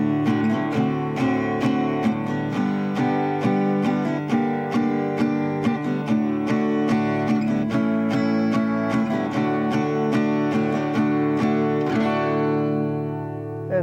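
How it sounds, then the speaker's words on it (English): An acoustic guitar in drop D tuning strums a quick progression of chords with a full, ringing low end, played steadily and close throughout, letting the final chord ring out. "And that is drop D tuning, and a few of the chords that are played along with it"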